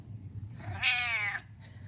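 A cat gives one clear, drawn-out meow, loud and close, rising then falling over about half a second against a quiet background.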